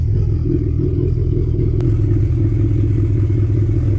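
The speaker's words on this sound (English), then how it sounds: "Oh man, she idles good though." A Honda Civic EF engine idles steadily with a loud, close, even low rumble and fine mechanical clatter, holding constant throughout with no voices.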